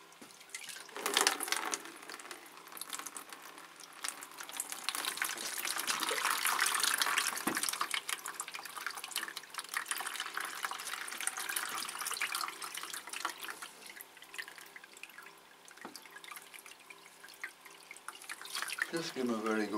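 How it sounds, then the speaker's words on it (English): Three Phragmipedium orchid plants are watered with 19 °C water, a steady close-up splash and patter of pouring water that runs continuously for about twenty seconds. "we'll just give those 3 plants a good watering."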